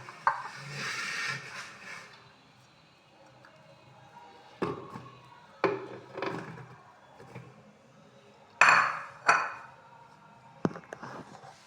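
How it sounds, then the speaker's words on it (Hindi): Pieces of ripe banana drop into a kitchen jug in a few soft thuds and taps, quiet and scattered with pauses between them. "ये जग में डाल दिए मैंने केले"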